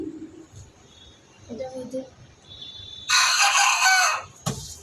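A rooster lets out one loud, close crow near the end, after quieter clucks and faint calls with low background noise.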